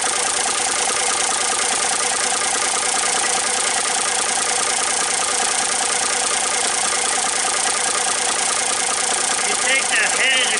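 Equipment engine idling steadily nearby with a constant mechanical drone throughout, heard while a grease gun head is held at the exhaust pipe in cold weather.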